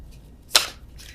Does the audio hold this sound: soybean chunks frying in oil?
no